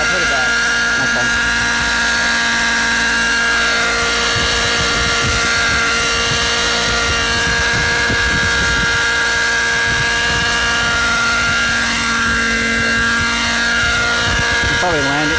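A Synergy N7 RC helicopter flies nearby with a loud, steady high-pitched whine and rotor buzz, its tone wavering as the throttle shifts, while people talk over it.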